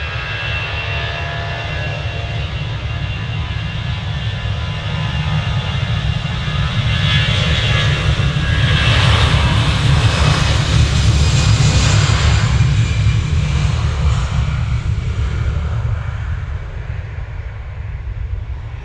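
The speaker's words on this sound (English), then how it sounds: "We've got this EasyJet A320 off to Malta." An EasyJet Airbus A320 departs from Manchester Airport bound for Malta. A loud, steady jet roar with heavy low rumble swells toward the middle and then slowly fades, heard from a distance outdoors.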